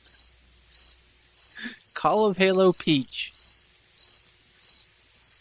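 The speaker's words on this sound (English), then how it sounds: "The crickets, Josh. They're so loud." Loud crickets chirping in steady, evenly spaced pulses throughout, with someone talking loudly over the middle of the chirping.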